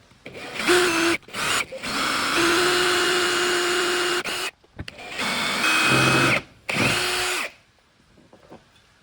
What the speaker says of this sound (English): I've been drilling holes.